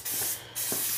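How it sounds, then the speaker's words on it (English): Tough as Tile spray paint hisses from an aerosol can onto a small sink in two quick bursts with a brief pause between, close and crisp. "when spraying the toughest tile you don't want it to be too heavy of a coat"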